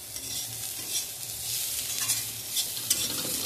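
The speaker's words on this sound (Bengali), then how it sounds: "পেঁয়াজগুলো ভালো মতন করে ভাজা হয়নি" Onions fry over a low gas flame while being stirred in a pan, giving a steady hissing sizzle with soft scraping stir strokes throughout, close and continuous.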